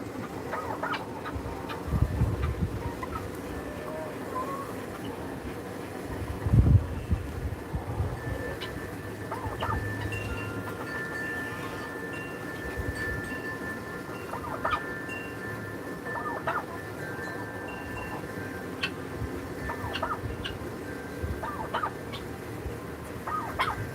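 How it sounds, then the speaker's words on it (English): Hundreds of chickens cluck and squabble around a single apple, a dense, steady flock chatter with scattered squawks and a few louder bursts near the start. "One apple versus hundreds of chickens."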